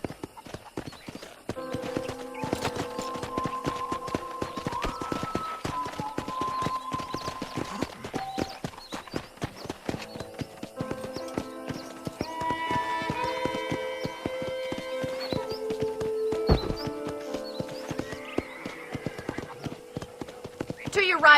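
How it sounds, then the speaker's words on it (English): Rhythmic clip-clop of horse hooves at a steady gait throughout in Red Dead Redemption, with someone speaking over them and background music playing. "let's see if you can still ride a horse"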